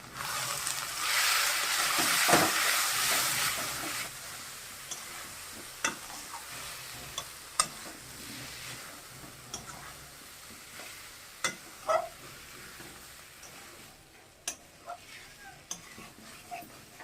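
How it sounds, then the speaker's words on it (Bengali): Whole new potatoes sizzle and crackle in a hot pan with turmeric, salt and chili powder, loudest at the start, then a quieter fry broken by sharp scraping taps of a spatula. "আলুগুলো ভাজা হয়ে গেছে"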